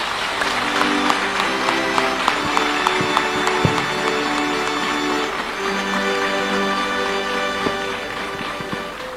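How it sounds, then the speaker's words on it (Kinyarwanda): Sustained applause mixed with high ululation from a congregation celebrating newly baptized children at a Pentecost service in the Huye prison, steady and loud throughout with music tones underneath. "tubahe amashyi n'impundu byinshi"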